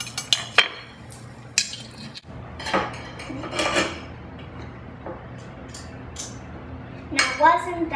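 Cooked food from the oven is plated, with dishes and cutlery clinking in several short bursts, a few sharp metallic chinks standing out near the end.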